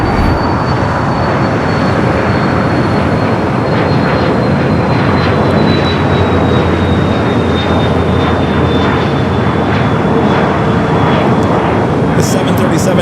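A Delta Airlines Boeing 737-900ER touches down at Los Angeles International Airport, its loud, steady engine roar filling the air, with a faint whine sliding slowly downward and a brief high rattle near the end.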